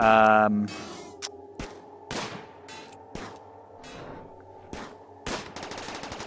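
Gunfire in RimWorld aimed at a ship and a centipede mechanoid: repeated sharp shot bursts spaced across the clip, with a brief musical tone at the start and a steady low hum underneath, no talking.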